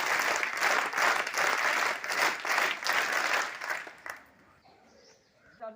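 Audience applause at a school scout and guide camp, a dense burst of many hands clapping together for about four seconds, then breaking off into quiet outdoor ambience with faint birds.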